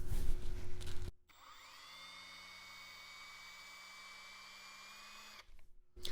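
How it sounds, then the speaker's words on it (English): Lee Valley 12.8 degree reamer working a bore in a steady, even tonal whine lasting about four seconds, close and moderately quiet, with a faint rising pitch as it starts. "And then you can now ream with the Lee Valley reamer."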